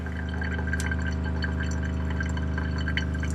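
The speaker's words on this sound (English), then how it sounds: "It is filling that hot water tank, so it's going to be working pretty hard right now." In a 2021 Aspen Trail 1950BH RV being de-winterized, the water pump runs hard while the hot water tank fills, a steady, loud mechanical drone with water trickling and dripping over it, no speech.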